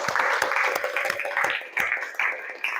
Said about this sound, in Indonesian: Jadi tepuk tangan buat Murni ya.